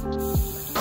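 Short hissing bursts of an aerosol spray paint can applying a light clear coat to a KitchenAid mixer, two quick sprays close by with brief gaps between.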